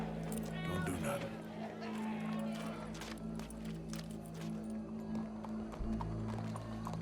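Horse hooves clip-clop in Red Dead Redemption 2, a steady run of hoofbeats under background music and in-game voices talking throughout.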